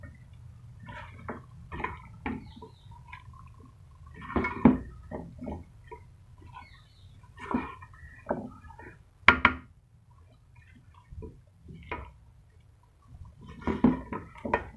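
Mixed vegetables with fenugreek, potato, carrot and peas in spiced masala are stirred with a spoon in a pot, giving irregular soft clinks, scrapes and wet squelches, close by and fairly quiet.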